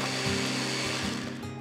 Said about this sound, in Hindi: बिस्किट्स को ब्लेंडर में ब्लेंड करूंगा.